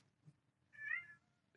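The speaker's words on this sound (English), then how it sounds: "And I got a cat crying at the birds out the window." A house cat meowing at birds outside a window: one faint, drawn-out meow in the middle of an otherwise quiet indoor room, with a soft thump just before it.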